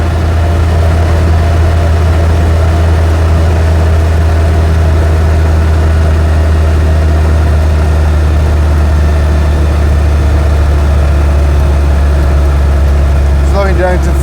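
An Invacar's small engine drones steadily while driving on the road and climbing a big hill, a loud constant low hum throughout with no break, heard from inside the vehicle.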